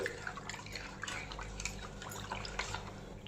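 Drops of lemon juice fall into pani puri water seasoned with amchur powder and pani puri masala, making faint, irregular drips and small splashes over a low steady hum.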